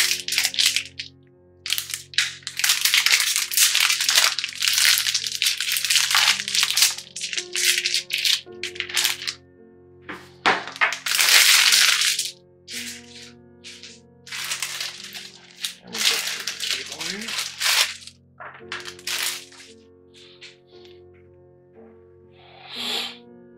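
Plastic packaging crinkles and rattles as it is pulled off a heavy 280-watt laptop power brick for an Asus ROG Zephyrus S17, close and loud in long bursts separated by brief pauses.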